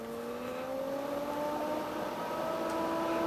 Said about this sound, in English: We've got a very small fan in here that runs at a very high speed,